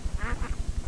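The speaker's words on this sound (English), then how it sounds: "Oh, what a darling little duck." A pet duck quacks in a quick run of short, nasal calls, close and clear, with a rhythmic pulsing beneath and no voices over it.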